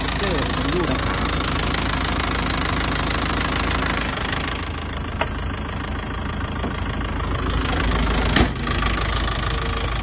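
A 2004 Isuzu D-Max 2.5 diesel pickup engine idles steadily with a knocking diesel clatter, close and continuous throughout, with a couple of brief clicks along the way.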